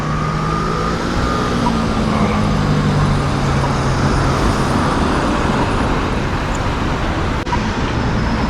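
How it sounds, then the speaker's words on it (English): Weekend car traffic outside Ormiston Mall, a loud, steady roar of passing vehicles with tyre and engine rumble filling the whole stretch, no voices over it. "A lot of cars in the weekend."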